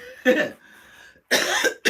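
Two harsh coughs from someone getting over a cold, close and loud, separated by a quieter pause with faint background hum, the second cough longer and ending abruptly.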